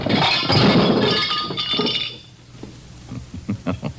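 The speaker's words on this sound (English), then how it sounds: "So you smashed the lamp." A lamp smashed in a 1952 radio drama sound effect, a loud burst of shattering glass that crashes and tinkles for about two seconds, then fades into scattered small clinks of settling shards.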